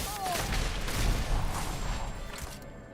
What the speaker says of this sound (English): there were like some really huge explosions happening